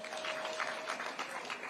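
Applause from an audience of learners at a national park tourism event in Kenya, a steady, moderately distant patter of many hands clapping for a couple of seconds with no voices over it.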